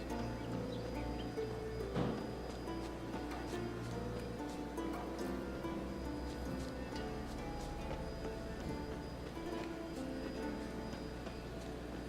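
Horse hooves clip-clopping in the video game The Witcher 3: Wild Hunt, a quiet, steady trot of hoofbeats set among soft ambient game sounds with faint birds, low and continuous throughout.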